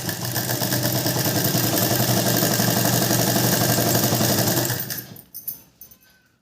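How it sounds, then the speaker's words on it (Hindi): An electric sewing machine stitches a blouse seam with a lace border. It makes a steady, close, fast mechanical whirr for several seconds, then stops abruptly, leaving a few quiet clicks. "अब हम पहले नीचे से एक सिलाई लगा लेते हैं"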